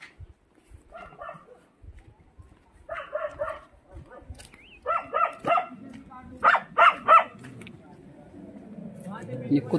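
Dog barking in short bursts at a pahadi wedding mehndi night gathering, several clustered barks building louder toward the end, with people talking and household clatter around it.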